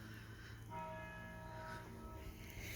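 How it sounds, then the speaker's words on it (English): A distant church bell rings the six o'clock hour, its tones faint and ringing out over quiet outdoor backyard ambience with no speech. "I can hear the 6 o'clock bell."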